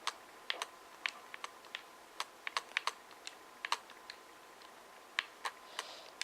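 Keys clatter on a computer keyboard as an item name is typed in Minecraft, a run of quick, crisp clicks in irregular bursts, close and fairly quiet with no talking.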